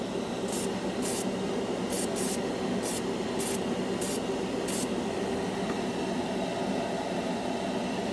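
A cheap $10 Harbor Freight airbrush sprays paint onto a scale model, giving a steady close hiss of air that runs throughout, with several short bright bursts as the trigger is pressed in quick succession.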